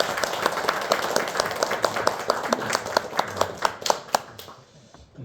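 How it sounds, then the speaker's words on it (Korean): A church congregation applauds with dense, steady clapping from many hands for about four seconds before it fades out. "우리 숙자님들을 위해서 박수하겠습니다"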